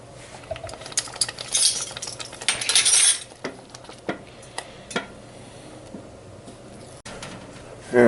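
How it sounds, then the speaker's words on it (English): A spoon stirs vanilla into hot homemade chocolate pudding in a pot, with scraping strokes against the pot's bottom and sides, sharp metallic clinks and a brief clatter, close and loud with no talking. "So stir in the vanilla first."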